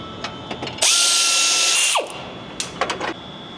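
A power tool whirs loudly for about a second while pulling a tab bolt from a 2017-19 Ford Super Duty frame, followed by rattling clinks of metal close by.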